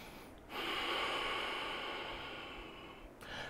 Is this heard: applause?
no